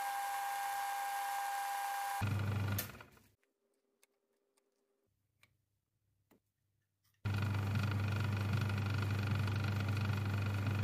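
A lathe runs with a loud steady whine while a 1.5 mm hole is drilled, then spins down into near silence with a faint hum and a few small clicks before the machine starts up loudly again.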